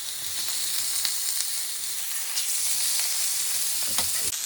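Steak seared season side down in a hot pan, a steady loud sizzle and hiss throughout with occasional sharper pops and crackles.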